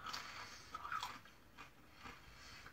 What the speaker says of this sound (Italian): Non so se potete sentire la croccantezza della crosta.